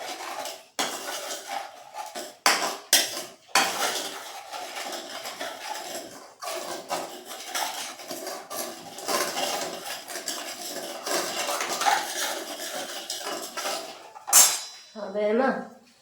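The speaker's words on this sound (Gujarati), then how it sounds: "મીઠું એડ કરી અને ફરી મિક્સ કરી લેશું." Garlic sev-mamra is mixed with salt in a bowl, with a spoon clinking and scraping against the dish in irregular bursts while a person talks.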